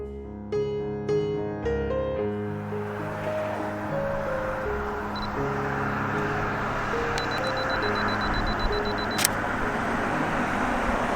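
Steady rush of cars passing on a roadway beside a bridge, a continuous broadband traffic roar with no gaps, faintly coloured by tonal music at the start.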